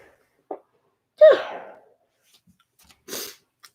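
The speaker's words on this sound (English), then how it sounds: "oh, I gotta sneeze" A single close, sharp sneeze bursts out after a brief sniff, followed by a short breathy exhale in an otherwise quiet room.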